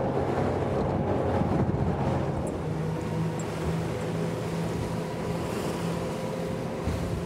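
A SACS Strider 11 motorboat runs at speed on open sea, its steady engine drone mixed with rushing water, spray and wind buffeting the microphone, loud and continuous throughout.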